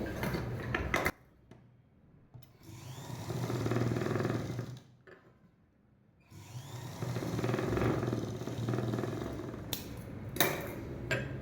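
A sewing machine running a press stitch over the hook section of a 36-inch blouse front: a steady mechanical whir in two sustained runs of a few seconds each, separated by brief pauses and light handling clicks, close and without speech.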